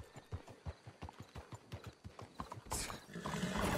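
Horse hooves clip-clop in a steady trotting rhythm in Red Dead Redemption 2, then a louder rushing noise takes over near the end.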